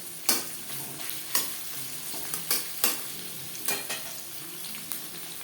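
Onions fry lightly in a thick aluminium kadai while being stirred, a soft continuous sizzle broken by several distinct scraping strokes of the spatula spaced about a second apart.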